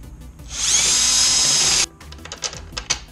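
A power drill whines loudly and steadily for about a second and a half while drilling a motorcycle handlebar on a Honda Grom, then cuts off, followed by a few scattered clicks and light handling noises.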